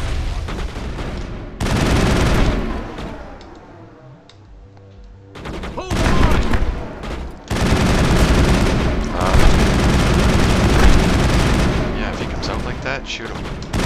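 Bursts of gunfire from the Mass Effect video game, loud dense volleys from about 1.5 to 4 seconds and again from 5.5 seconds to the end, with a brief quieter lull between them.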